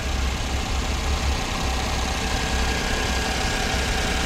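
An old minivan's engine idles steadily and quietly, a continuous low mechanical hum with no speech, holding at an even level throughout.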